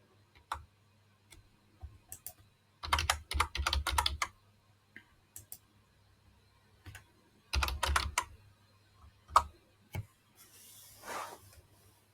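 Typing a prompt on a computer keyboard, close and quiet: short bursts of rapid keystrokes separated by pauses, with isolated single taps and clicks between the runs, and no voice.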